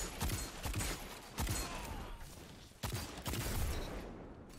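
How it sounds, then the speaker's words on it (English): Fusion rifle fire in Destiny 2 player-versus-player combat, heard as several loud, sharp bursts in a loose rhythm over dense ongoing battle noise. "Almost ate that fusion rifle shot right there"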